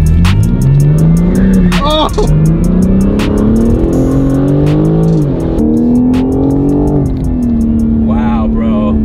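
A 2021 BMW M4 Competition with its exhaust valves open revs hard, the engine climbing and dropping in loud, close pitch sweeps with sharp crackles, while voices shout excitedly over it.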